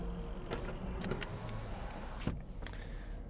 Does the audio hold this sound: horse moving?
no